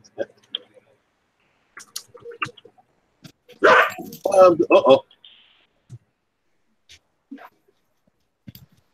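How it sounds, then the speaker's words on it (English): Small dogs bark and yip in a short burst of a few sharp barks in the middle, fairly close, with scattered clicks and quiet gaps around them and a person talking nearby. "You say you got 3 dogs"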